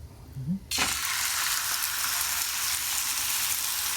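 Chuck roast hitting a hot pan at home, a sudden loud sizzle that starts abruptly and holds steady as the meat sears, close and unbroken.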